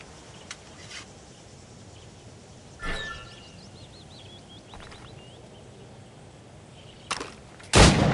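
Gunshots fired at targets in a video game shooting range: a handful of sharp single shots spaced irregularly over a quiet background, with faint chirping tones between them.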